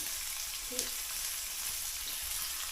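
Onion and chili sizzle quietly in oil in a pan on a wood-fired stove, a soft, continuous crackle with faint stirring and no voices.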